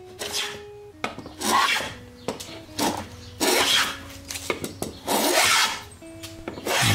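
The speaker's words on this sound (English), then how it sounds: "So I just like this sound." A hand plane with an iron ground to an 8 or 9 inch radius takes crisp shavings off wood in repeated rasping strokes, each a second or so long, close and alone.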